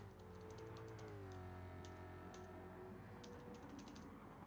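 Computer keyboard keys pressed in small bursts of soft, quick clicks during a sim-racing broadcast, set against a steady engine drone from the racing game.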